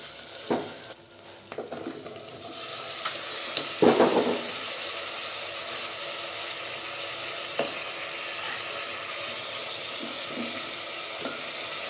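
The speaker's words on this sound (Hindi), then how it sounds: "अदरक लहसुन को थोड़ा सा भून लेंगे।" Ginger and garlic fry in oil with turmeric and coriander powder for daal gosht, sizzling steadily throughout while a spoon stirs and scrapes the pan, with a louder clatter of stirring near the start.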